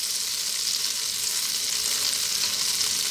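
Flour cooks in butter and lamb pan juices for a stew, giving a steady, close, bright sizzle that holds evenly throughout with no speech.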